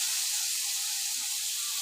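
Snake gourd and potato pieces fry in a pan over a lowered gas flame, giving a steady, even hiss of oil with no breaks or voices.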